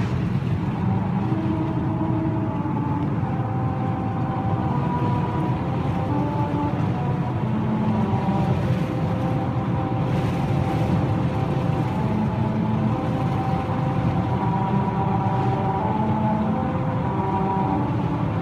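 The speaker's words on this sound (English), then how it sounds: "66 that has rumble strips cut into it that apparently if you drive 45 miles an hour, it'll play America the Beautiful" A car drives at 45 mph over the rumble strips of the Route 66 musical road in Tijeras, New Mexico. A steady engine and road drone carries faint humming tones that shift in pitch, with no talking.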